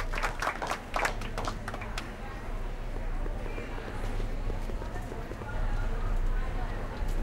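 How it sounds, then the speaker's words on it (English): Crowd applause from the Back to the Future video game, a dense burst of clapping in the first two seconds that settles into a steady murmuring audience bed. "How about a round of applause just for the heck of it?"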